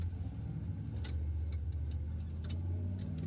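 Off-road race vehicle on race line wheels grinding up a rocky canyon-bottom trail, engine droning low and steady up close with faint clicks and knocks from the rough ground.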